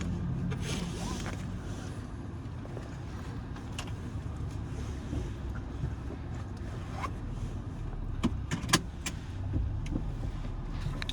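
A car passes close by with steady road and engine rumble, broken by a few sharp clicks and clunks near the end.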